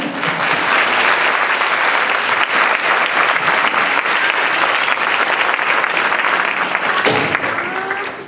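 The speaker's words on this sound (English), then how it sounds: "so if we can give her a round of applause" Loud, sustained audience applause at a school fall orchestra concert, a dense continuous roar of clapping filling the room, briefly joined near the end by a voice or a few cheers as it tapers off.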